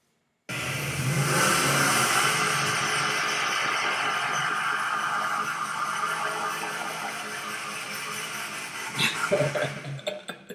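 A boosted Dodge engine revs loudly and steadily for several seconds, a sustained mid-pitched roar, then sputters and pops as it drops off near the end.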